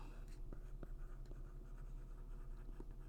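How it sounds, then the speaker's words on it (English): A pen or pencil writes out a math formula for area and perimeter by hand, with quiet, close scratching strokes and small taps in an irregular rhythm. "Step 1, write the formula out."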